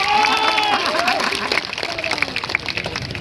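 Loud crowd applause at a BJP party-joining political rally in Tarapur, Munger, with voices and a tonal wail running over the dense clapping throughout.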